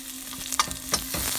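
Garlic and onion sautéing in a pan for chicken tinola with lemongrass, a steady close sizzle with a few light scrapes of stirring, no talk.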